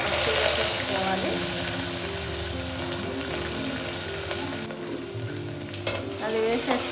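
Crushed onion and garlic frying in a pan for bitter gourd stew, a loud continuous sizzle with scraping stirs, close up, with a voice talking over it and a low hum in the background.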